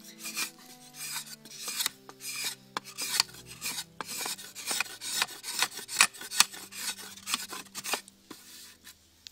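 A blade slices across the grain of a wooden paddle in repeated short rasping strokes, close and crisp, with irregular rhythm and brief pauses between cuts.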